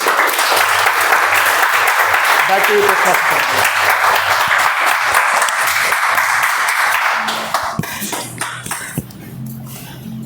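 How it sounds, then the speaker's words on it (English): Audience at a Toastmasters club meeting gives a sustained round of applause for the evening's speakers, loud and dense for about seven seconds before thinning out, with a cough and a brief spoken line as it fades. "Let's give a huge round of applause to all of our speakers."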